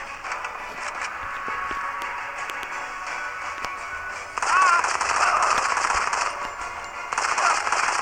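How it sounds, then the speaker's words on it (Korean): Rapid automatic gunfire in the mobile shooter Modern Combat 5, sustained bursts of sharp, clattering shots with a bright metallic edge, growing louder and denser partway through, with no talking. "나 아무 말도 안 하고 사격하는 거 진짜 재미없는데"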